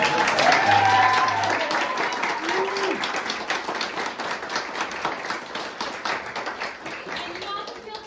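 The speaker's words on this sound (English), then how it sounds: "Round of applause." An audience applauds at the close of a live radio play performance, a broad steady wash of clapping that holds throughout, with a brief voice and a few stray sounds near the start.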